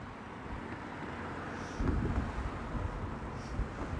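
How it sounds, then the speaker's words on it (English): Steady wind rumbles and buffets a microphone outdoors on Waterloo Bridge in London on a cold day, with a stronger gust midway and faint traffic noise beneath. "it's cold and windy at the moment. By the way, how is the wind noise?"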